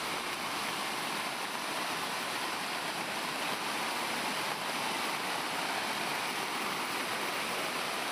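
Floodwater from the Bhadra river in Chikkamagaluru rushes across farm fields, a constant, even roar of churning water with no pauses or voices.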